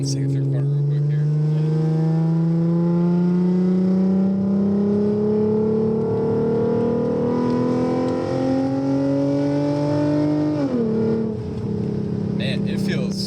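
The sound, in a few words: modified Lexus IS350 with tuned exhaust driving through a corner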